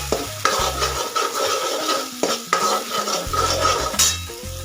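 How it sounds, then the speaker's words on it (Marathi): Eggplant masala stir-frying in oil in a pan, with close, busy sizzling broken up by repeated scrapes and clinks of a spoon against the metal pot. "याला व्यवस्थित तेल सुटेपर्यंत परतून घ्यायचं"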